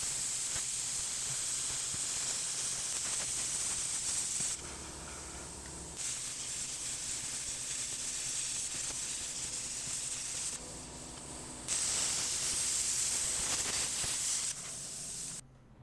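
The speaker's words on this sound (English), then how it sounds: "I'm making a little template that I can follow with my plasma cutter for cutting out the brackets" Plasma cutter slicing steel brackets along a template, a steady loud hissing rush that drops out briefly twice between cuts before resuming.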